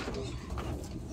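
Tippler pigeons coo in a brief, low, rolling call heard up close over a dense, noisy background.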